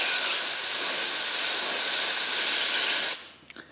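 Compressed air blasting over the jet of a Weber DCOE carburettor, a loud continuous hiss lasting about three seconds before cutting off sharply, followed by a faint clatter.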